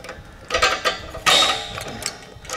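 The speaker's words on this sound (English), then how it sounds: "I'm gonna take my pliers. I'm gonna grab onto the nut, the brass nut that came with the valve," Pliers grip and turn the brass nut on an RV propane hose, giving a few close metallic clicks, creaks and scraping twists in short bursts.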